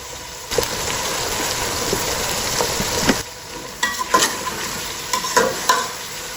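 Tomatoes tipped into a pot of aloo matar pulao with potatoes and peas, then stirred: a steady close sizzle under a series of sharp scraping spoon strokes against the pot, with no talk.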